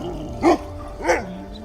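A dog gives two separate barks about half a second apart, close and fairly loud, each a short sharp yelp with a low tail, over a quiet steady hum.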